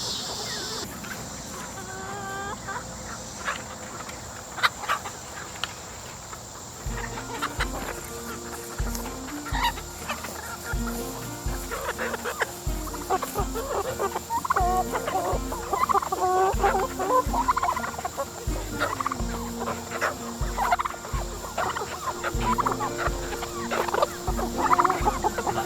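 Backyard chickens cluck and squawk repeatedly near their coop at close range, with overlapping calls and rustling throughout and occasional low voices beneath.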